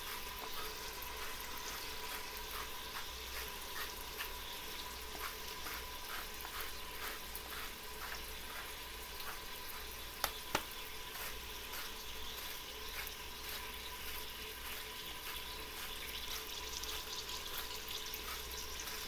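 Steady frying hiss from bacon in a pan for pork stew, continuous and close, with faint crackles and a couple of sharp clicks near the middle, no talking.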